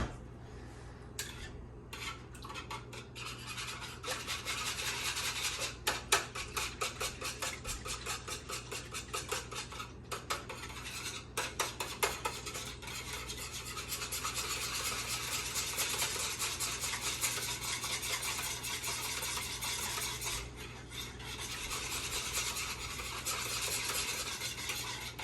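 A whisk scrapes and stirs batter in a bowl for fried chicken, a steady close rasping churn that runs almost unbroken, with brief pauses and rhythmic clicks against the bowl.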